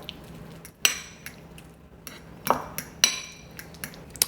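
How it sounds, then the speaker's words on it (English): Fork clinking against a bowl while beating butter, a series of sharp metallic taps spaced irregularly, some louder, over a quiet background. "Just beat up this butter, get it nice and mixed in."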